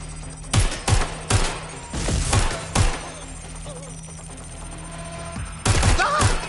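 Bursts of gunfire in Watch Dogs: Legion, several sharp, loud volleys of rapid shots in clusters separated by brief pauses, with a voice speaking between the exchanges.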